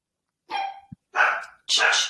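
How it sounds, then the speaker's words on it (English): A dog barks three times at close range indoors, each bark loud and sharp with short pauses between, no talking over it. "I don't want my dog to ruin this."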